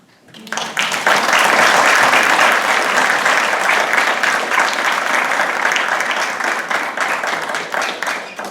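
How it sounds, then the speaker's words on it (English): An audience gives warm, sustained applause at the dedication of an International Dark Sky Sanctuary on Beaver Island, rising quickly from quiet to a dense, full roar of clapping that holds steady and eases slightly toward the end. "So I will pass that nice warm applause on to Robert"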